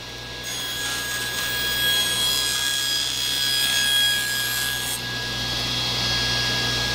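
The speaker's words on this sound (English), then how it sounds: "I'm gonna cut that 11 and then come back and trim the other side as well." Saw cutting a walnut board to length for a display case, a steady continuous rasping stroke close by that runs unbroken for about seven seconds with no talk.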